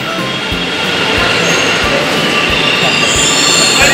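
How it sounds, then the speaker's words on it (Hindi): A green-line metro train pulls into a station in Bangalore, its wheels squealing loudly over a rolling rumble with regular rhythmic rail clacks, close and continuous. "देख सकते हैं आप ग्रीन कलर की मेट्रो आ रही है"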